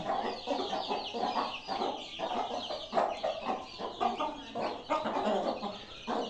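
Rooster clucking steadily in short repeated bursts while feeding chicks, close and moderately quiet, with rustling around it and no speech.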